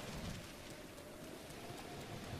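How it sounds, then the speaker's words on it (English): Steady rainfall in the open world of the video game Zelda: Breath of the Wild, a soft, even hiss of falling drops with a low rumble underneath, faint and continuous with no voices. "I'm just glad it's raining."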